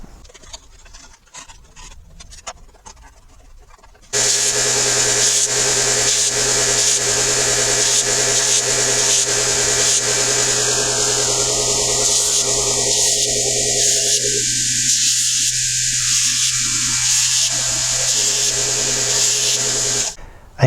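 An old steel file is ground into scrapers on 60 grit abrasive, giving a loud, continuous, steady power-sanding roar with a shifting tone, alone after a few seconds of light handling noises.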